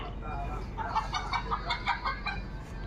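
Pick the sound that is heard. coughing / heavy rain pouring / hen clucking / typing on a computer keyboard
hen clucking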